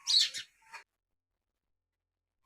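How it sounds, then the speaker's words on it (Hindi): Birds chirping in the early morning, a burst of bright close tweets and a second short call, then quiet with a faint chirp at the very end. "परिंदे चहचहा रहे हैं, कितनी प्यारी आवाज़ें आ रही हैं"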